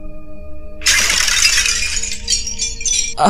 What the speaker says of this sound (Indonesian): sebuah botol minuman keras pecah tepat di atas kepalanya